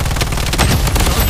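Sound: gunfire in the video game Project Bloodstrike

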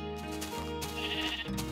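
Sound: sheep bleating in the video game Minecraft

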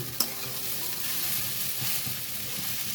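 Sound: stirring sago pulao in a pan on a slow flame

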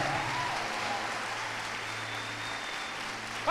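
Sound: church congregation applauding

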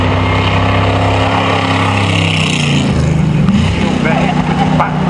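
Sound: Batten Special racing car engine at Shelsley hillclimb

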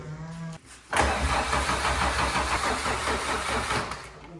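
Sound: car engine cranking, failing to start

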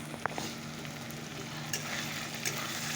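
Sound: chicken with spice paste frying in pan

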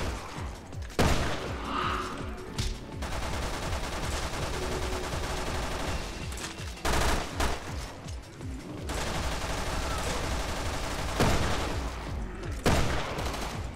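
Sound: weapon gunfire in video game Resident Evil Revelations 2

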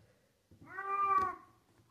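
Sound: pet cat meowing

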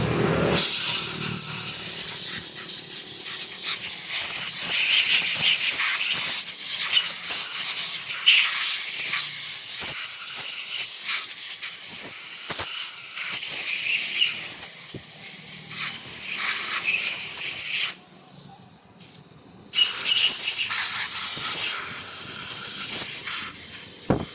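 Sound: air compressor blowing air to clean a pump

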